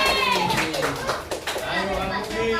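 Schoolchildren in a classroom clap quickly and raggedly while excited young voices shout and cheer over the claps throughout.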